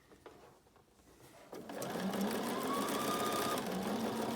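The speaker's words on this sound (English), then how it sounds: "I'm going to sew past this seam." A sewing machine stitches a fabric face mask seam, quiet at first and then running in a steady fast whir from about the middle to the end, close and alone.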